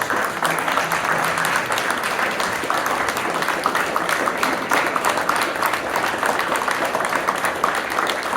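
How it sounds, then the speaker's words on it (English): Steady, sustained applause from a large crowd, dense clapping that holds at an even level throughout. "So get on up and give them a round of applause."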